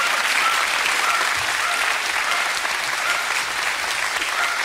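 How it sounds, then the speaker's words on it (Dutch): Studio audience at a televised Dutch animal-day show breaks into sustained applause, a broad, even wash of many hands clapping at a steady loudness throughout, with a faint murmur of the crowd beneath. "En daar klappen ze ook altijd voor, het hou je niet voor mogelijk."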